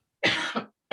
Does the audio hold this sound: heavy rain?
no